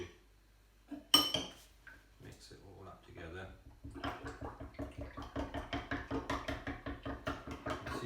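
Honey, sticky black treacle and warm milk are stirred together in a bowl, a spoon clinking and scraping in a quick, rhythmic run of light knocks after a few scattered taps, close and soft.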